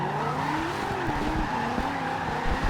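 Tires squeal as a 2015 Mustang with rally suspension drifts in Forza Horizon 2, with a steady, loud skid layered over the engine's droning tone for the whole stretch, no talking.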